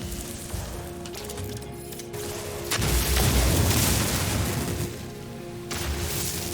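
Loud explosions in the space exploration game No Man's Sky: a deep booming burst that swells and rumbles for a couple of seconds, set between quieter ambient game sound.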